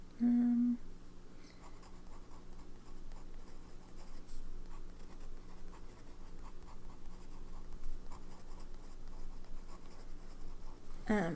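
A pen scratches across paper in soft, continuous strokes, quiet and close, with small tapping sounds throughout and no one talking.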